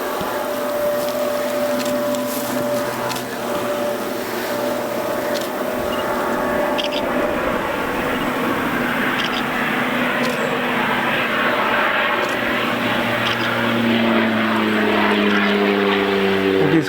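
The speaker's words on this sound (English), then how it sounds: "He's coming in for a landing again at that island." A propeller airplane coming in to land at an island in Algonquin Park, a continuous droning engine hum with a slowly shifting pitch, steady and fairly distant throughout.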